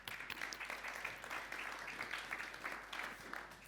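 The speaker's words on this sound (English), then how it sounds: "I think they deserve a round of applause." A conference audience on a tech stage claps for the speakers, a modest, fairly distant round of applause that keeps a steady patter throughout at low volume.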